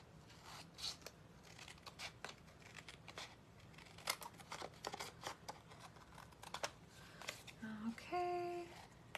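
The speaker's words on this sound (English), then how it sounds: "It's going through quite a few layers right there, so let's just use scissors" Scissors snipping through several layers of sticky card during papercraft, a run of crisp close cuts and crinkles with a few tapping clicks, fairly quiet.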